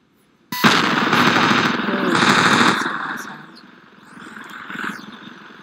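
Unsuppressed automatic gunfire in the video game Ravenfield, loud sustained bursts starting abruptly and continuing in rapid rattling volleys that ease and swell again, with faint talk underneath.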